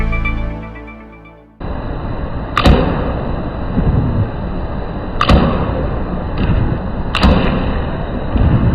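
An arrow fitted with a budget Keaup lighted nock strikes and passes through a target, giving sharp impact cracks at intervals against a steady background hiss, with no talk.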